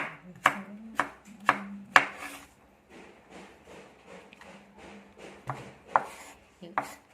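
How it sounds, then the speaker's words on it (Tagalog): A knife slices carrots on a cutting board, with sharp, close chops at an uneven pace, louder strokes at first, then softer rapid cuts and a few more firm hits near the end, without speech. "Ganyan lang guys ang paghiwa ng carrots"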